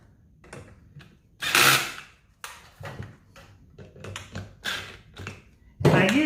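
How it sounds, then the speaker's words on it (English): Screws being tightened on a four-stroke dirt bike silencer after repacking, heard as a series of short, close mechanical taps and clicks with irregular spacing and a few louder bursts. "And then I go back through and tighten them all"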